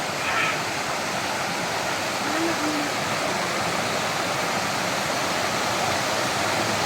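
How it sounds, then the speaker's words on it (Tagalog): Pagdanan Falls in Dingalan, Aurora Province, pours steadily nearby as a loud, continuous broadband rush of falling water, with a brief faint voice in the background. "Ito yung falls."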